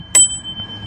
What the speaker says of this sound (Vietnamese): Con làm cái chuông vậy cho mấy người đó dậy hả?